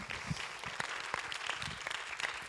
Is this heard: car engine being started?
no